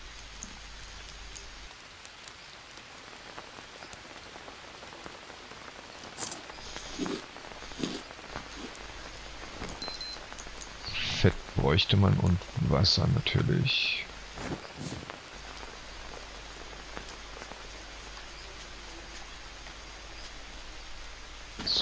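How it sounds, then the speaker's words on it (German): Steady rain in the video game Green Hell patters and hisses throughout, with a person talking over it and a brief cluster of louder rustling, step-like sounds midway. "Okay, müssen wir den Regen noch abwarten."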